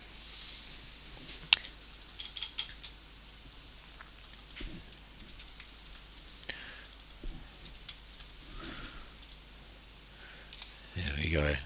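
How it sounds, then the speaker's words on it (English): Scattered computer mouse clicks and keyboard key presses tap irregularly and faintly throughout, made while hiding planes in 3D modeling software during rocket design, with a person speaking over them. "I can turn the visibility off of these planes just by right clicking and pressing V on my keyboard."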